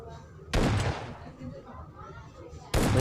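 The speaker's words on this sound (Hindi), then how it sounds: "इन पे कोई फायर कर रहा था, मतलब आरपीजी चला रहा था" Gunfire and an RPG blast in the mobile shooter PUBG Mobile Lite: two sharp, loud explosive bursts with a crackling tail, the first near the start and the second at the very end, with quieter battle noise between them.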